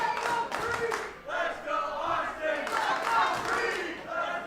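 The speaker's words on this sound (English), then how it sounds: "There's a crowd, there's a section of this building that is actually cheering on Will Austin." A wrestling arena crowd chanting and cheering for a wrestler during a match, a dense roar of many voices rising and falling in rhythmic waves throughout.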